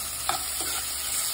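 Garlic, onion and tomato sauté for a seafood dish in a continuous hiss of frying, with one soft stir partway through.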